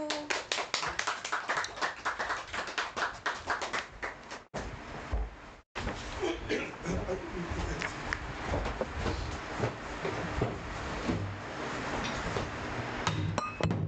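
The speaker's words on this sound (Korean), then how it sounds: "박수!" Audience clapping at a lecture on pansori Jeokbyeokga, a rhythmic series of close claps with bright clinking, tapping accents, briefly cut off mid-way before a denser stretch of clapping resumes.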